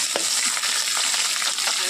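Onions frying in a pan, a loud continuous sizzle with intermittent stirring scrapes, close up and without talking.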